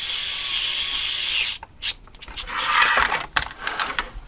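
A KAIWEETS mini electric screwdriver with a magnetized bit drives small screws, giving a steady whirring motor run, then a series of short bursts and ratcheting clicks, close and fairly loud.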